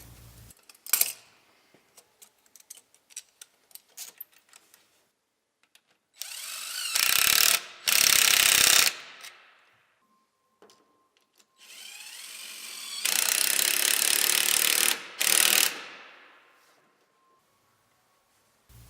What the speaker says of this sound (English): Reinstall charge air cooler intake piping and tighten all clamps.